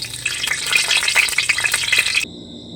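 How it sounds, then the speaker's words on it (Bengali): Rapid scraping and clinking of a utensil stirring cardamom, cloves and cinnamon in a wok over a soft sizzle, stopping abruptly near the end. "একটু নেড়ে চেড়ে নেব"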